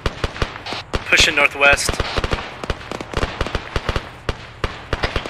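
Rapid gunfire bursts from ArmA 3 combat, sharp repeated cracks spread across the whole stretch, some close and loud, others further off, with radio-style squad voices talking over the shooting.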